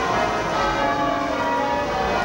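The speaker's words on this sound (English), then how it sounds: "Ah, the bells!" Church bells at Windsor Castle clang continuously and loudly, a dense ringing wash with no pauses and no voices over it.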